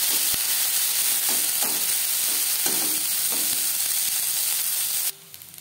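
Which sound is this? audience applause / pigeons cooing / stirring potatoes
stirring potatoes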